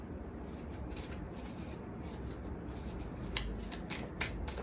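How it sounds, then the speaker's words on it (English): Oracle cards being shuffled by hand, a close, quiet run of papery riffles and soft slaps repeating in quick bursts with no talking. "Shuffle some oracle."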